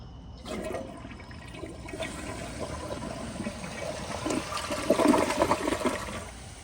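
A 2004 Kohler Highline Ingenium toilet flushes with a rushing gurgle of water that swells toward the end, heard close and alone.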